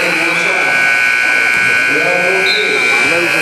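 A long, steady electronic basketball game buzzer drones through the whole stretch at halftime of a league game, loud and continuous, with crowd chatter and voices underneath.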